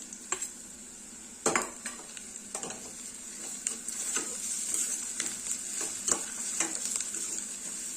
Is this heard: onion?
yes